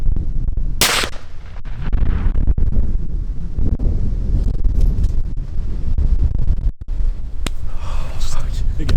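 A rifle shot fired at a buck on a Michigan public-land firearm deer-hunting opener, a sharp loud crack near the start against a windy outdoor background, with people talking before and after it.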